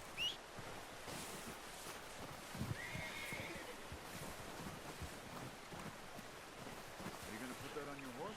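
Horse in Red Dead Redemption 2 neighs and whinnies over clip-clopping hooves and game ambience, with a player talking over parts of the scene.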